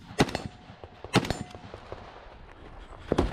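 Rifle gunshots on the rifle stage of a multigun shooting match: a few sharp, loud cracks at irregular intervals with fainter shots and echoes between them, heard outdoors.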